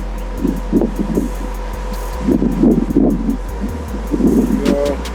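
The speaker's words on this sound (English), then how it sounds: "A little windy out here, it makes it a little more difficult" Wind gusting outdoors beside a 2019 Whipple supercharged F150, buffeting the microphone in low rumbling surges that rise and fall over a steady hum, with no talking.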